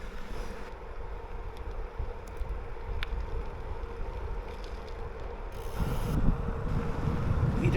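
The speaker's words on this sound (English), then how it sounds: "the freewheel on the cassette of this bike, incredibly noisy" A noisy freewheel on the cassette of a Trek Domane+ e-bike with a TQ HPR60 motor ticks steadily and fairly close while riding. Wind and rolling rumble grow louder toward the end.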